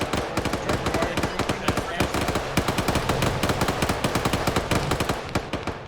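Machine guns in a video game fire sustained suppressing bursts, a dense rattling stream of shots with some louder cracks mixed in, continuous throughout with faint voices underneath.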